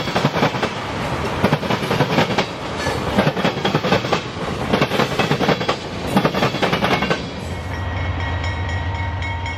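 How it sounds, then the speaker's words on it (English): Q602 freight train hauling chemical traffic passes close by with a loud, steady roar and rhythmic clatter of wheels over rail joints, the noise easing toward the end as the last cars pass. "Q602 comes out of New Orleans with chemical traffic for Florida and South Georgia."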